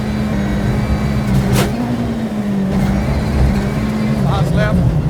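Citroën WRC rally car engine held at full throttle on a slippery stage, a loud steady drone with a rising pitch sweep near the end, heard from inside the car with a voice talking over it.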